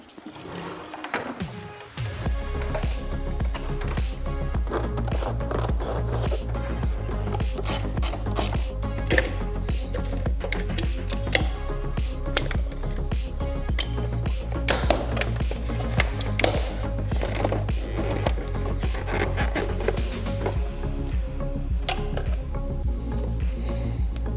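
Ratchet wrench working steadily to remove a car headlight during an LED headlight install, continuous mechanical clicking and whirring throughout, close and loud, with no talk.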